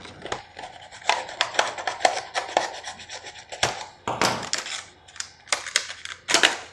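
Packaging for a Mi Compact Bluetooth Speaker 2 being cut open, heard as close, sharp scratching, tapping and slicing sounds in quick irregular bursts with short pauses and no speech.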